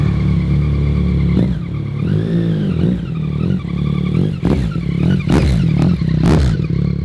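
A 2021 Yamaha MT-09 fitted with a Yoshimura AT2 full exhaust rides on the road, its loud engine note rising and falling through several rev changes and shifts, close and continuous.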